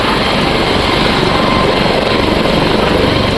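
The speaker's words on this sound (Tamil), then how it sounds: "அப்போது சிறிது தூரத்திற்கு மேலே எழும்பிய ஹெலிகாப்டர் திடீரென கட்டுப்பாட்டை இழந்து" A helicopter taking off roars close and loud, its rotor thumping in a steady, rapid rhythm under a constant engine drone, as it loses control after lifting a short way.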